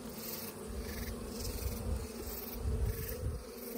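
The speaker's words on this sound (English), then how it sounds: "I got some bees, but not very many." Honey bees buzz softly at a top-bar hive, a faint, continuous low hum with gentle swells and no voices.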